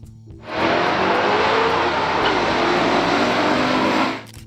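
A 1971 Dodge Charger Super Bee muscle car engine roars loudly and steadily for about three and a half seconds, rising abruptly and cutting off sharply, with no voices.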